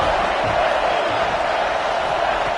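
A college football stadium crowd swells with a broad, steady roar as the defense holds in the red zone, a distant dense wash of many voices cheering without pause.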